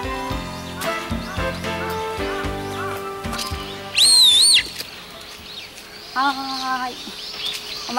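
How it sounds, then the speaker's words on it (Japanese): A bird calls along an autumn walking path on a wooded slope in Setagaya, Tokyo: a loud, clear warbling call stands out midway and a shorter call follows, with music and voices running underneath. "おお、鳥が。"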